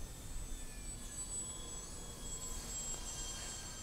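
A model OV-10 aircraft's engines drone steadily while powering up during a landing approach on its maiden flight, a faint, distant whine with high tonal hum, alone without talk.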